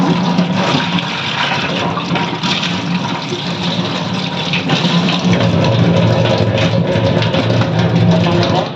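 Mangoes are rinsed under a kitchen tap, with water running and splashing loudly and continuously over the fruit, close up.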